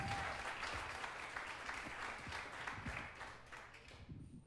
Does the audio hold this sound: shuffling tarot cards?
no